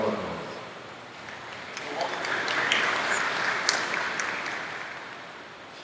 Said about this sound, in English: Give our round of applause